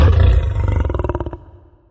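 A lion gives one loud, close roar: a deep rumbling swell that breaks into a rapid pulsing growl and fades out within two seconds.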